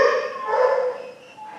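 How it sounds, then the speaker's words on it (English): Dogs bark loudly inside an animal shelter, a dense, echoing wash of overlapping barks and yelps that stays strong before easing off slightly near the end. "all this loud barking"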